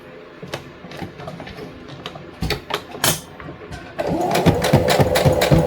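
A sewing machine stitches a fabric lanyard with a D-ring, starting with scattered clicks and short bursts of needle action before settling into a loud, steady, continuous stitching run.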